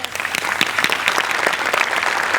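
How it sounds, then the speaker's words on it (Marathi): Studio audience applauding on a Marathi comedy show, a dense burst of clapping from many hands, close and steady for a couple of seconds. "तिच्यासाठी एकदा जोरदार टाळ्या"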